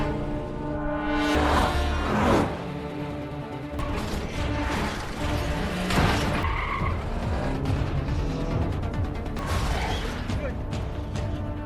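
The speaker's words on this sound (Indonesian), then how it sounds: "Mobil mereka bertabrakan, Kyung-ho pun melarikan diri." Skidding tires and roaring car engines during a movie car chase, with loud screeching bursts, mechanical clatter and impacts layered over a dense, busy soundtrack.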